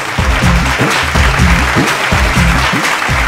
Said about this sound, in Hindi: जोरदार ताली के साथ स्वागत करें भोजपुरिया संगीत जगत की अद्भुत हस्ती मालिनी अवस्थी